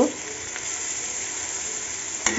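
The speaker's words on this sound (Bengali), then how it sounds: "এই যে আমি পেঁয়াজ দিয়ে দেব" Onions go into hot oil for a hilsa fish curry with taro stolons. A steady broadband sizzle holds throughout, with a sharper crackle at the start and another near the end.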